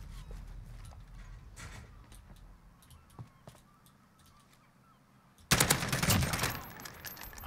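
Rapid M4 rifle fire in a Modern Warfare one-on-one match on the Docks map bursts in loud and sustained after a quieter stretch of faint in-game clicks and taps.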